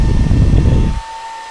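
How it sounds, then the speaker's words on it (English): Cheap hairdryer running on its low setting to dry paint, a steady close whirring blow of air that cuts off abruptly after about a second, leaving only a faint hum. "Just kind of keep the hairdryer moving."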